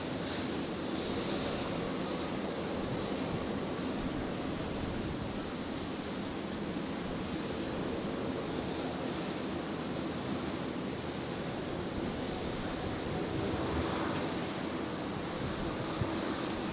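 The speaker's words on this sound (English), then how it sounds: "let's get a good shot of this Dash 8, which is just arriving" A Dash 8 turboprop airliner arriving at Brisbane Airport gives a steady, broad, distant engine drone that holds evenly throughout with no talking.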